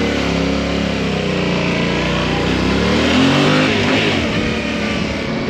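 A Yamaha Ténéré motorcycle engine revving while riding on the road in Sicily, a loud, continuous close-up drone that swells and rises in pitch before settling, with no voices.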